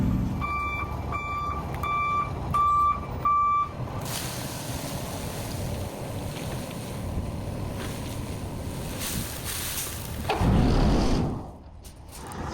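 A chipper truck's reversing alarm beeps steadily in a regular rhythm for a few seconds, then stops, leaving wind noise and a low rumble outdoors.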